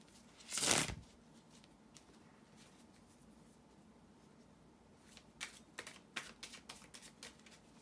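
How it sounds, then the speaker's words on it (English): Tarot cards riffled once in a loud burst, then a stretch of quiet followed by a quick run of soft flicks and taps as the deck is handled. "shuffle the tarot cards"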